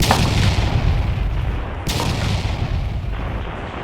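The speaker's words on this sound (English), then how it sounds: "The Union artillery opens up." Union artillery opening up in an Antietam battle game, heard as a loud continuous rumble of cannon fire with a couple of sharper booming reports breaking through, close and heavy, no talking.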